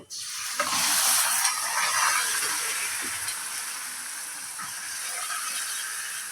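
Meat, apparently desi chicken, tipped into hot oil with onions and green chillies fried reddish, giving a loud sudden sizzle and hiss that then settles into a steady frying crackle with some stirring, close by and with no talk.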